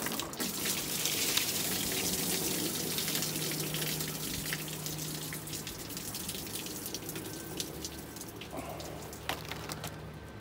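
Water runs steadily with a continuous splashing hiss, close and fairly loud, with a faint hum underneath.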